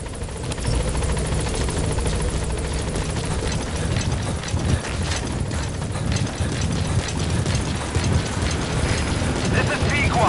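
A helicopter arrives at a landing zone in Metal Gear Solid V: The Phantom Pain, with a steady, loud rotor roar and mechanical rattling throughout.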